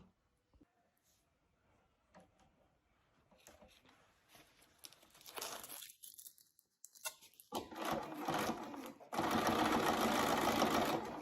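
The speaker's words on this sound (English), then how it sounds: "then we'll stitch around that Velcro" A sewing machine stitches around a strip of Velcro, starting with faint handling and rustling, then running in a loud, fast, steady mechanical whir that grows more intense toward the end.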